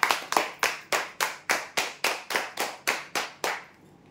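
Steady, evenly spaced clapping, about a dozen sharp claps roughly every third of a second, greeting prize draw winners of a computer table, fairly close and alone before fading out.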